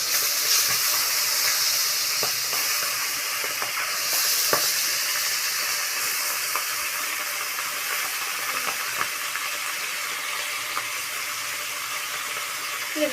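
Fish frying in hot oil in a kadai gives a steady, close hiss and crackle that runs unbroken throughout, with faint bubbling and no voices.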